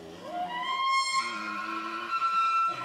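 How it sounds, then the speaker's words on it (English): A bull elk bugling to attract mates: a rising, piercing whistle that climbs and holds a high, squealing tone for a couple of seconds over lower resonant grunting, with no talking. "As you know, bull elk give off loud and impressive bugles to attract mates."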